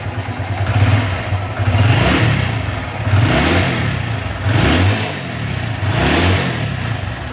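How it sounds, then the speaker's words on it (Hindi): An iSmart 110 motorcycle engine runs steadily nearby, its revs rising and falling in repeated surges, with a rattling timing-chain clatter under the engine note. "तो देख सकते हैं कितना साउंड आ रहा है इंजन से।"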